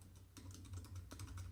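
Quiet typing on a computer keyboard while entering a domain name during WordPress résumé site setup, a short run of soft, irregular key clicks over a low steady hum.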